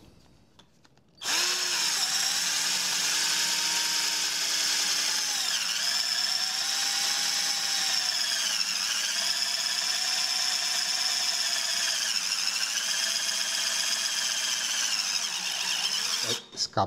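Cheap 12V Titanium cordless drill straining as it bores into soft pine wood, a loud continuous high-pitched motor whine with pitch dips under load, running steadily for about fifteen seconds after a brief quiet start.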